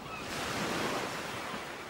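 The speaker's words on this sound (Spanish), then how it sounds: "El mar ruge como si quisiera devorarnos." Roaring sea surf on a wild, rugged coast, a steady broad wash of breaking waves with wind rushing across the microphone, loud and continuous with no voices.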